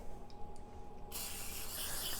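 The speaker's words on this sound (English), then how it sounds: "So that's why I'm spraying these." An aerosol can sprays cooking spray onto baking tins for a strawberry pie. A faint mechanical rattle comes first, then a loud, steady hiss starts abruptly about halfway through and continues to the end.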